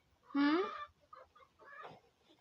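A broody hen gives a loud drawn-out cluck followed by softer, fainter clucks and low murmurs in a quiet coop.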